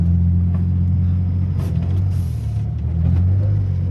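A Ford Transit van fitted with King shocks drives off-road in Utah, its engine a loud, constant low drone with brief clattering and rattling bursts from the bouncing load.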